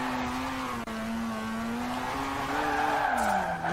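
A car drifts in Forza Horizon 4 with a steady, loud tire squeal over engine drone, the pitch wavering as the slide holds in the lower gears.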